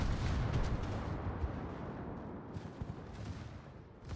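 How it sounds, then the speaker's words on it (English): A World of Warships ship fires armour-piercing shells from its rear turret, a deep heavy booming rumble that rolls on and slowly fades. "who just fired AP out of the butt turret"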